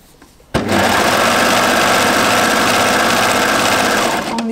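A sewing machine runs continuously, stitching the plain sleeve seam of a knit jumpsuit, a steady, close, loud whirring hum that starts abruptly and keeps an even speed for about four seconds before easing off.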